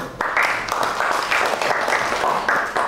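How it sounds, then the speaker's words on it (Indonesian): Lecture audience claps at an education management class, a close, loud patter of hands with a faintly pulsing rhythm lasting under three seconds. "tepuk tangan dulu"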